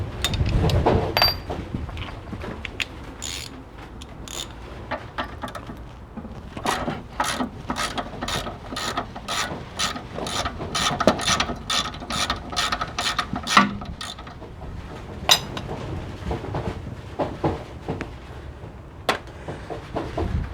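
A 17mm wrench ratcheting on a Mitsubishi 3000GT/GTO during CV boot work, rapid clicking bursts of the pawl repeating over and over, close and fairly loud, with occasional tool knocks and no talking.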